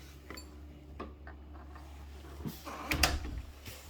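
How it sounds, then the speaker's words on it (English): A door being opened indoors, heard as a few close clicks and clunks followed by a louder rattling knock near the end, over a low steady hum. "Look, door's open. Door opens."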